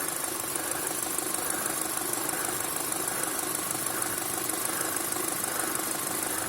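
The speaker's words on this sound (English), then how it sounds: "obviously that sounds like a tensioner or something on a belt that's making noise" A 2007 Volkswagen GTI MK5 engine idles with a steady, noisy whir and faint ticking from a belt tensioner on the original timing belt, heard evenly from close by with no talking.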